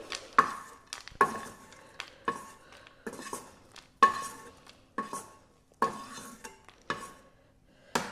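Metal spoon and spatula clink and scrape against a plate and pan as ghee-fried dates are lifted out, a series of sharp close taps and clatters repeating every second or so, with no talking.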